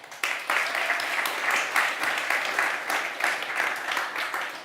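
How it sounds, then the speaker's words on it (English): An audience applauds a jury at a pitching event, steady dense clapping that starts abruptly and holds at an even level throughout, fairly close and full, with no talking over it. "let's have the last round of applause to our jury"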